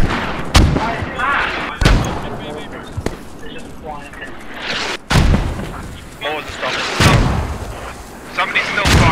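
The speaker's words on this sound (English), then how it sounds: "Guys, stop the mortars." Mortar rounds impacting in the video game Squad: several heavy booming thuds spaced a second or more apart, some near and loud, mixed with gunfire and player voices talking throughout.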